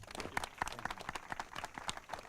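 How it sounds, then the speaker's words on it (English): Faint, scattered hand clapping from a small gathering on a greenway preview tour, as a mayor is welcomed. The uneven claps stay distant and soft for a couple of seconds. "Please give him a big round of applause"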